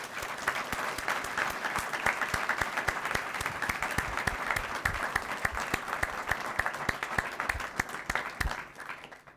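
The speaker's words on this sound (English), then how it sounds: "let's start with a round of applause for the courage of these student speakers in sharing their" Audience applause for student speakers sharing their stories at an evening university listening event, a steady dense wash of clapping from a sizable crowd that holds throughout and tapers off at the end.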